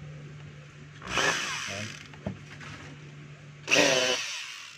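A DeWalt D25133 rotary hammer that runs slowly is test-run in a repair shop. Two short bursts of loud motor whine rise over a low steady hum, with a brief click between them and a short spoken word.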